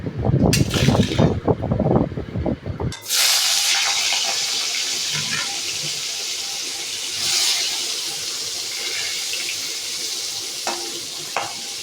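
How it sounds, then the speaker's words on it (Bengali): Okra being washed by hand under running water: a few seconds of splashing and rubbing, then a steady stream from the tap pouring into a sink, fairly close. "এখানে আমি একটু ঢ্যাঁড়স ভালো করে পরিষ্কার করে ধুয়ে নিচ্ছি"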